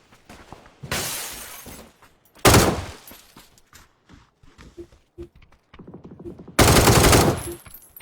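Video game gunfire in loud, sharp bursts: three heavy volleys of rapid shots, each lasting about a second, with scattered single clicks and faint impacts between them and no talking.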